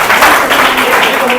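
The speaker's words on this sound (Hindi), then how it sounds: "जोरदार ताली इनके लिए भी।" A live audience at a motivational talk bursts into loud, dense applause that runs steadily for the whole moment, with no voice rising above it.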